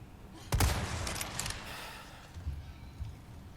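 A single sharp gunshot in Resident Evil 4 Remake, a headshot on an enemy, bursts out loud and close, then fades into a rumbling game ambience with a few softer thuds.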